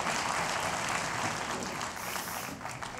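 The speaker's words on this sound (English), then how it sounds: "Would you give the Lord a clap offering?" Church congregation gives a sustained burst of applause, a dense wash of clapping from a large room that holds steady and tapers slightly toward the end.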